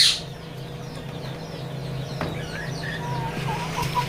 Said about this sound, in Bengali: এই ঘরে আমার রয়েছে মুরগি বেশ কিছু মুরগি রয়েছে